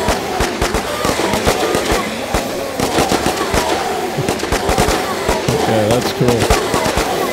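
Rapid bursts of defense tower gunfire ring out in the zombie survival strategy game Infection Free Zone, dense overlapping cracks continuing steadily throughout, with someone briefly talking over them.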